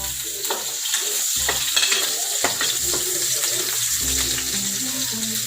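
Garlic and onion sautéing in a pan for ginisang batong, a steady bright sizzle under irregular scraping and stirring knocks of a utensil against the pan, close and moderately loud.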